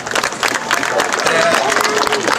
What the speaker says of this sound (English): So give me a big round of applause for Bill and Sandra Deacon.